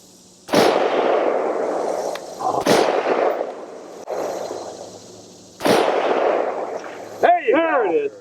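An IWI Tavor X95 rifle fires several loud, close gunshots at a 300-yard target, each crack followed by a long echoing decay, spaced unevenly a few seconds apart, with a brief voice near the end.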